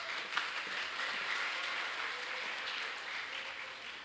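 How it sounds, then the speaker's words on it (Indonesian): Seminar audience gives a sustained round of clapping, a dense, even patter of many hands at moderate level with no talk over it. "Ayo dong, tepuk tangan."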